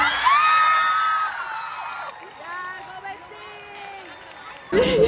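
Crowd at a 2023 ISSMA state show choir awards ceremony whoops and shouts with high, excited voices, loud at first then settling into a lower murmur of yells before a fresh burst of cheering at the end.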